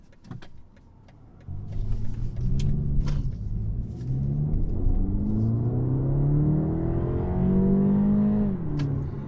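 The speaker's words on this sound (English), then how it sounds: "That turbocharged engine's pretty nice" A BMW 228i Gran Coupe's turbocharged engine accelerates steadily, its rising drone climbing in pitch over several seconds with a faint turbo whir on top, loud and close from inside the cabin.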